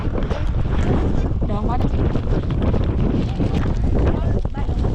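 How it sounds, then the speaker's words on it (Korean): Strong wind buffets the microphone in a desert, a constant loud roar throughout, with people talking under it. "바람이 엄청 많이 불어"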